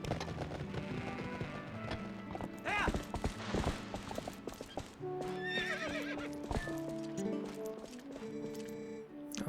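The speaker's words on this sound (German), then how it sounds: "Epona, mein treues Ross" Horse hooves clip-clop at a trot while the horse neighs and whinnies, in The Legend of Zelda: Twilight Princess HD, with game music and effects playing steadily underneath.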